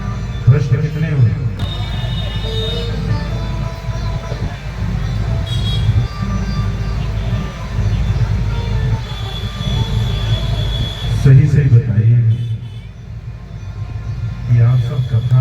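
Road traffic with vehicle horns outside a Bhagavat katha gathering: a constant low rumble with a few sustained horn tones, heard beneath a man's loud amplified speech.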